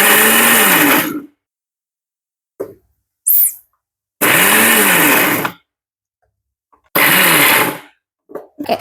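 A mixer grinder pulses while coarsely crushing shrimp thoran masala for a Kerala recipe: three loud, close whirring bursts of about a second each, separated by silence and a few short clicks and knocks.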